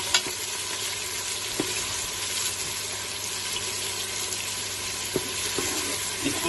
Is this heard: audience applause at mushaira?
no